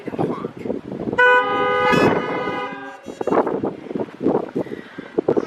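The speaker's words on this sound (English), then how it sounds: "I invite you to honk." Several car horns honking together in a long sustained blast at an outdoor Sunday gathering, framed by a voice speaking over wind noise before and after.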